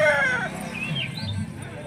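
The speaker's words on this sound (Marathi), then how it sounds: "सकाळी सकाळी उठल्यानंतर कोंबड्यांना बाहेर सोडली।" Chickens and a rooster let out in the morning at a village home, with clucking and a crow-like call near the start, then fainter clucks close by.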